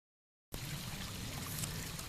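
Creek water on East Fork flowing into a small swimming hole in a Shenandoah hollow, a steady close rushing murmur that starts abruptly after a brief silence and runs evenly.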